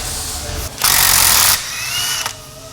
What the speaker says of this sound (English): All right, so we're gonna take off the axle nut